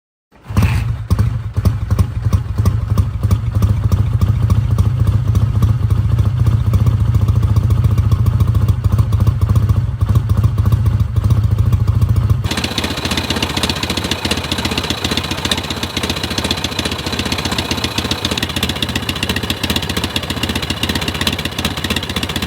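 A Yamaha XS650 classic motorcycle engine runs steadily, a loud close rhythmic thumping idle that shifts tone partway through and continues without talk.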